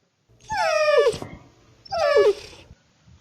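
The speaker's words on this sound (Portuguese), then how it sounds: "Esse é o som do grunhido de um cachorro" A dog gives two drawn-out whimpering, whining calls with a rough growling edge, each about a second long and separated by a short pause, close and clear with no talking.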